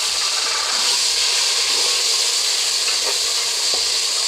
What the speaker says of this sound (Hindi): अब हम इसमें ऐड करते जाएंगे 1 बाय 1 करके टमाटर